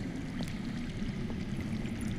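Underground water flows in the game Telltale's Game of Thrones as a faint, steady rushing wash that holds an even level throughout, with no voices over it.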